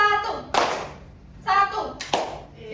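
Children in a classroom clapping game clap in sharp, separate bursts, three distinct claps spaced across a short stretch, close and fairly loud, with a teacher's voice and children's voices around them.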